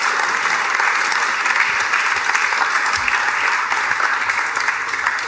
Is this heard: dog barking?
no